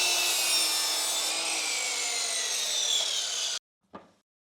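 A mitre saw cuts through a skirting board with a loud, steady high whine for about three and a half seconds, then stops abruptly, followed by a short knock after a brief silence.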